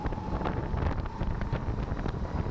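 Strong wind buffets the microphone at the Raassilla kart rallycross track in Estonia, a continuous loud rushing roar with gusty surges and no clear speech.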